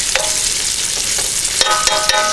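Bacon frying in a pan on a camp stove outdoors, a bright steady crackling sizzle with sharp pops and spits scattered through, close and loud.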